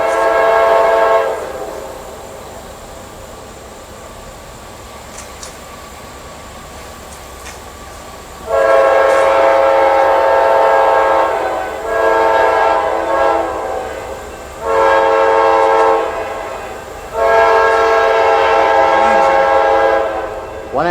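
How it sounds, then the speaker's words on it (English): A train horn sounds in four long, loud blasts after a quiet stretch, the rumble of a single-locomotive coal train underneath. "It looks like a one-engine coal train."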